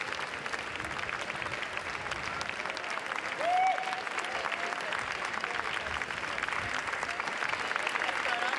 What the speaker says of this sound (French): Applaudit toute l'équipe